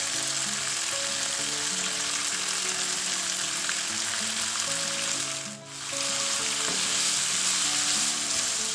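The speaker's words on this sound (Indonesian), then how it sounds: "Sekarang saya masukkan jamur." Enoki mushrooms and sausage stir-frying in a pan, a continuous close sizzle with low hum tones beneath and a brief dip in loudness midway.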